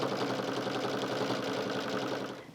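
A sewing machine runs steadily at close range, stitching a cover strip onto a quilt with an even, rapid mechanical chatter that fades slightly at the end.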